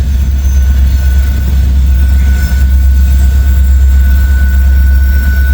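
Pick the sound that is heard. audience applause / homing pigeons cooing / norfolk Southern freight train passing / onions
norfolk Southern freight train passing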